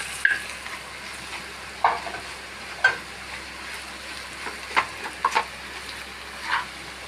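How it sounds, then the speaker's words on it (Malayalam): Coconut roasting in a pan makes a soft, steady dry hiss, broken by a handful of scattered scraping strokes as a spoon stirs it now and then. "അപ്പോൾ നമ്മുടെ നാളികേരം ഞാൻ വറുക്കാനായിട്ട് വെച്ചിട്ടുണ്ട്."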